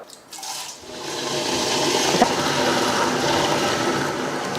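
A mixer grinder whirs through coconut and soaked rice flakes, starting after a brief quiet moment and then settling into a loud, steady, rushing roar.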